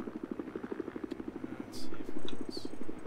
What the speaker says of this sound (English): I just ran over myself with my own transport chopper